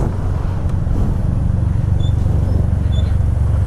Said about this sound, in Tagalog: Tignan nyo naman, napaka-traffic dito.